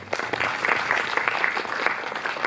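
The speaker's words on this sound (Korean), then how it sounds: "다시 한번 앞에 계신 감독님과 배우님들께 큰 박수 부탁드리겠습니다" Audience applause at a film festival screening in Jeonju, honouring the film director and actors, a dense steady crowd clapping that holds at an even level throughout.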